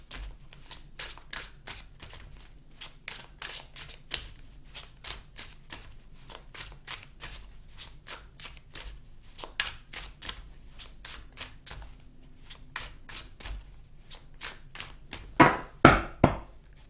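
Tarot cards are shuffled close up in a steady run of soft riffling slaps that continues throughout, ending in a few louder thumps as the deck is squared.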